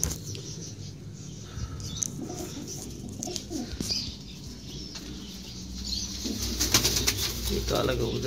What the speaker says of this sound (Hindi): काफ़ी खूबसूरत कबूतर है और काफ़ी बड़ा कबूतर